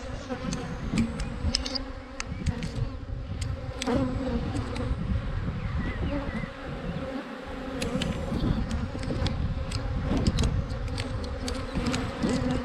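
Honey bees buzzing loudly and steadily around an open hive during a spring inspection, a dense continuous drone of many insects close by with scattered individual bees flying past, no one talking.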